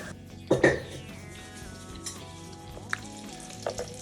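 Spices for a beef bone dish drop into hot oil for a final tempering, bursting into a sharp, loud sizzle that then settles into a quieter crackle with a few small stirring clinks and no talk.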